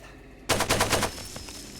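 A golden AK rifle in Far Cry 2 fires a rapid automatic burst of about six loud, close shots, followed by fainter trailing reports.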